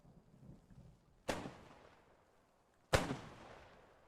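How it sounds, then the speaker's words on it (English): Mortar shells burst nearby on a Post Scriptum battlefield: two sharp, heavy booms about a second and a half apart, each with a rolling rumble that fades out. The blasts stand alone against faint background noise. "Those mortars coming down again"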